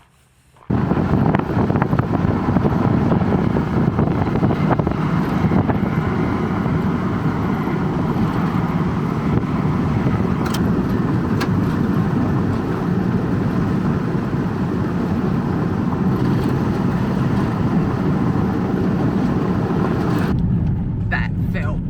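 A 4WD camping rig drives a gravel trail through a working mine site in the Goldfields, a steady loud rumble of engine, tyres and wind noise that carries unbroken for about twenty seconds, with voices talking over it before it cuts out.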